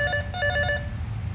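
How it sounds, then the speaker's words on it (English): A phone rings in the DRIV3R video game with a bright electronic trill in a few quick repeated bursts, then stops, over a low background rumble. "Oh, a phone call."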